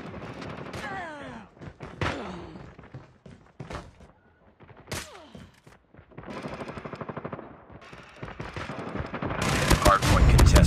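Automated sentry gun firing during a Call of Duty Mobile hardpoint match, with rapid bursts of gunfire mixed with game voice callouts and thuds, and a dense, loud burst of fire near the end.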